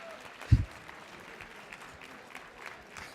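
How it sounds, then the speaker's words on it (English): Brief, faint applause from an awards-night audience, with a single soft thump near the start and scattered light clapping trailing off in a large quiet room. "I even got applause"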